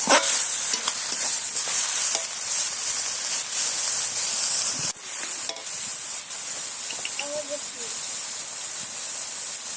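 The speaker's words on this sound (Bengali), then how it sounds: "এইভাবে নাড়তে নাড়তে শাকটা হয়ে যাবে দেখুন" Taro greens stirred dry in a hot pan with no water added, cooked with fish head, giving a steady close sizzle and hiss with soft scraping strokes throughout.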